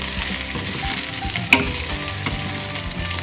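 Garlic cloves frying in a hot pan for a filet pizzaiola sauce, a steady close sizzle with light stirring scrapes and one sharp clink midway.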